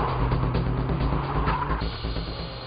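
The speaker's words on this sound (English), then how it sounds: "Here is a demo run by Tsuchiya in a nicely tuned S14 Sylvia" A tuned Nissan S14 Silvia makes a drift demo run on a slightly wet track, its engine droning loudly and continuously while the tires skid and squeal.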